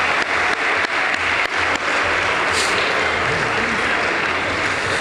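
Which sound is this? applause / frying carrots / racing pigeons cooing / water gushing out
applause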